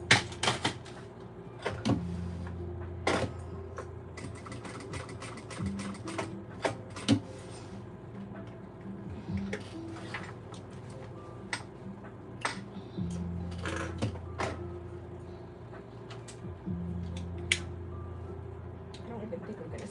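A sewing machine stitches a seam in a home sewing room, its needle mechanism ticking and clattering in quick uneven bursts with brief pauses, close and moderately loud, without talk.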